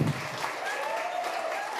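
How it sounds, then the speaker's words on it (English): A crowd applauds a cocktail bartender at a bar competition semi-final, a dense and continuous wash of clapping that holds steady throughout at moderate loudness. "Big round of applause for Erin"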